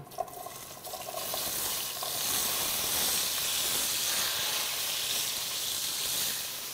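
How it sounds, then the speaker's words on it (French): Zucchini slices dropped into very hot oil, a loud dense sizzle that swells quickly and holds steady and close, with no talking. "on va les faire griller. Fait qu'on peut commencer par les courgettes. L'huile est très chaude."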